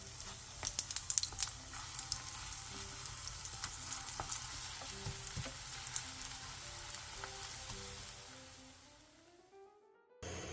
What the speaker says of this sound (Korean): 사각어묵 2장을 먹기 좋은 크기로 잘라준 뒤 앞에 두부전과 마찬가지로 밀가루, 계란물 순서로 묻혀 중약불에서 앞뒤로 노릇노릇하게 부쳐주세요.